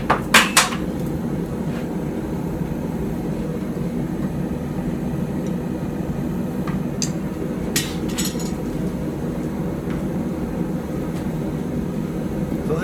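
Hot steel for a puukko knife is hand-hammered without a power hammer, giving loud, sharp metallic strikes in quick clusters over a constant roar of forge fire, with irregular pauses between bursts.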